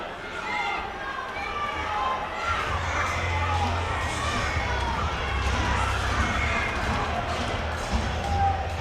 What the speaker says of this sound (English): what a rambunctious crowd we have here at the Stewart Holmes Arena in Osgood